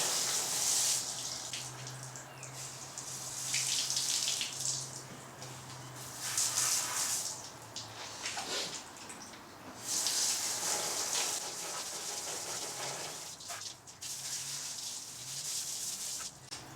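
Water sprays and splashes steadily over a Suzuki DR650 motorcycle during a wash, a broad hissing rush that swells and eases in waves with brief pauses, close and fairly loud with no talking.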